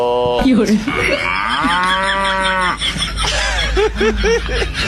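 A cow tied up in a cattle shed gives a loud, close, drawn-out moo, surrounded by shorter throaty calls and chuckle-like bursts.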